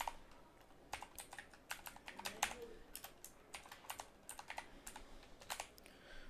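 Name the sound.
typing on a computer keyboard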